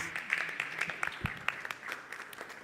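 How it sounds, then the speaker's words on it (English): Scattered applause from a congregation at a Sunday service in a Krishna temple, fairly faint and distant, with uneven claps rather than a full roar. "Let's give her a round of applause."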